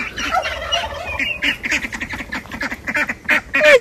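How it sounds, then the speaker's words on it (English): Ducks kept in a netted poultry pen alongside chickens and young turkeys quack repeatedly at close range, loud and irregular bursts of nasal calls, with no talking. "Look at duck ducks."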